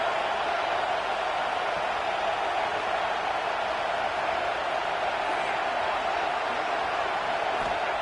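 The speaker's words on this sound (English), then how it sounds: "Listen to the crowd energy here in the early going." Clemson versus SMU college football stadium crowd as a steady, dense roar with no breaks, filling the whole stretch at moderate loudness.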